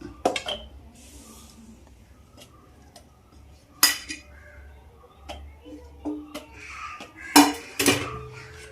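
A plastic chopper container opened and onion dropped in, with sharp clatters, clicks and knocks of lid and pieces spread irregularly through a quiet kitchen, several louder bursts near the end.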